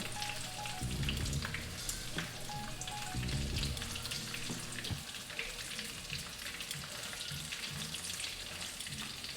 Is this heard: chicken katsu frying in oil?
yes